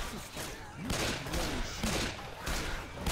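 Gunfire in the game Left 4 Dead 2: a continuous rattle of shots mixed with game noise, under excited talk between players.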